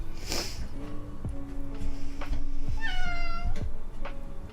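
A cat meows, giving one long tonal call and then a rising, wavering meow near the end, close and clear over some low handling and room noise.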